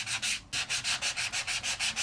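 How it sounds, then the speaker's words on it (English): A Sizzix sanding block sands paper off an embossed die-cut design, rapid rhythmic strokes of close, loud rasping, about a dozen back-and-forth passes after a brief pause. "my Sizzix sanding block is going to take off that paper and expose the design."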